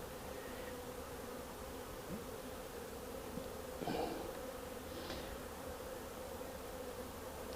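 Honey bees in a small peat flowerpot hive give a steady, close, low buzzing drone that runs throughout, with a few brief louder wingbeats passing near, and no talking.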